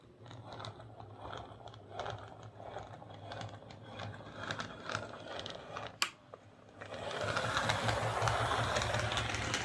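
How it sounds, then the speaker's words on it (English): A Hornby Caledonian Railways 0-4-0 saddle tank model locomotive running forward with a rapid, uneven clunking and mechanical rattle, close up, growing into a louder, denser whir near the end. "I wonder why it's clunking like that going forwards"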